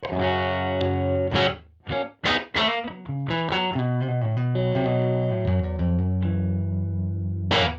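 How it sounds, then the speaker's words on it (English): Electric guitar through an amp modeler's 1x10 room preset, with a distorted, amp-like tone, plays a short phrase of picked notes and sustained chords, upfront and alone. "So this was a 110 room sound."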